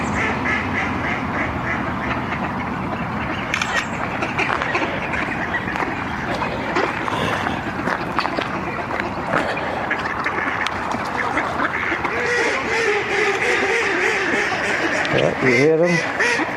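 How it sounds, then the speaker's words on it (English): A flock of ducks quacks steadily around a person walking through them outdoors, close and continuous, with a voice speaking over the calls. "Good picture of ducks coming up."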